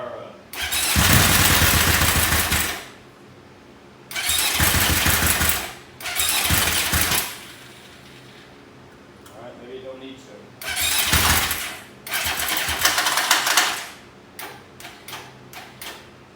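A 1981 Honda CB750 DOHC motorcycle starts up loudly in several bursts of a few seconds each, with quiet gaps between them and a rough, ticking idle toward the end.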